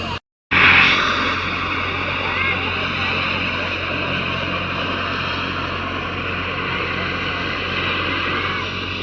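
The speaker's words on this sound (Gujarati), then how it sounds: "મિત્રો તમે જોઈ શકો હેલિકોપ્ટર ફૂલ પવનમાં ફૂલ જોશમાં અત્યારે શરૂ થઈ ગયું છે" After a brief silence, a helicopter's engine and rotor run at full power before takeoff, a loud, steady, droning whir with someone talking over it.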